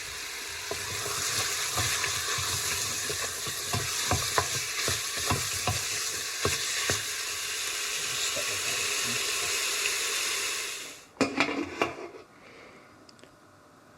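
Ox cheek beef sizzles loudly in a hot pan while it is stirred, with scraping stirs repeating irregularly over a constant fry, before the sizzle drops away and a few clatters follow near the end.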